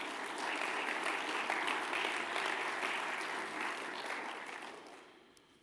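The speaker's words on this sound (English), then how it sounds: "And let's go and give these young men a round of applause." Applause from an audience at a secondary school awards ceremony, steady clapping that holds for several seconds and then fades away.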